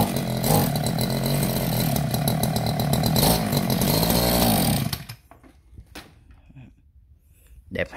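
A Japanese petrol brush cutter engine runs loud and steady for about five seconds, then cuts off, leaving faint clicks and handling noise.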